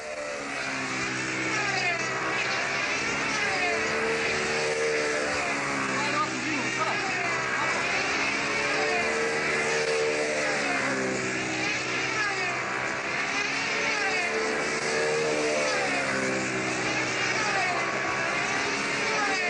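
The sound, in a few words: model aircraft two-stroke engine running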